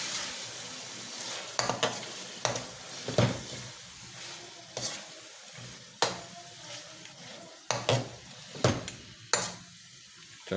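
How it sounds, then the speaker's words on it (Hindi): Chopped tomatoes sizzle in a hot pan for chicken aloo curry, with a soft continuous fry and repeated sharp scrapes and clinks of a spoon stirring against the pan at irregular intervals. "4 मीडियम साइज़ के टमाटर हैं, वो मैं इसमें ऐड कर रहा हूँ और इसको अच्छी तरह से इसमें मिला लेंगे"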